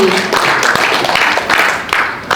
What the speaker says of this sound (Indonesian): Tepuk tangan sekali lagi dong untuk IM3